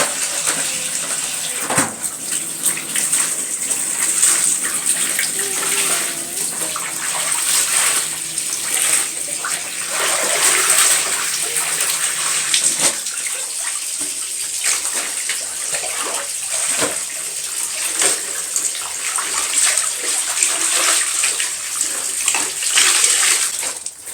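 Running water pours steadily for a final rinse during household chores, a continuous broadband wash with occasional sloshes and clinks, fairly close and loud with no talking.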